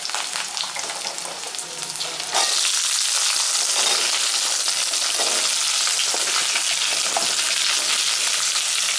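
Small onions frying in a pan for a village-style small onion chutney, a loud, dense sizzle that swells and holds steady after a couple of seconds, close and continuous with no voices.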